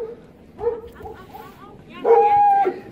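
A mother dog whimpers and yips softly, then lets out a louder, drawn-out whining bark near the end, close by.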